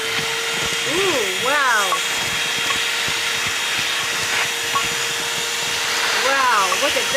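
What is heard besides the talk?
vacuum cleaner cleaning up food crumbs in a car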